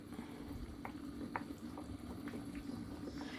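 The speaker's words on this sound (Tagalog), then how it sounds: "Kumukulo na po siya." Low, steady bubbling of Chinese soup simmering in a pot with a few soft pops and splashes, close by and moderately quiet.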